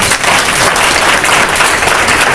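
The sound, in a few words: audience applause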